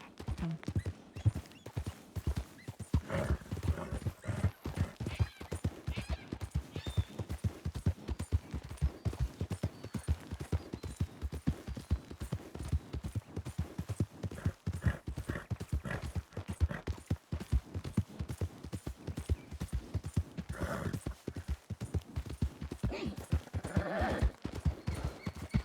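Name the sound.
horse hooves clip-clopping in a Red Dead roleplay video game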